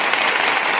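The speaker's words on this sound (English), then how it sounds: "Hollis, applause, please." A burst of crowd applause sound effect, dense steady clapping heard loud and close, filling the whole moment without any voices.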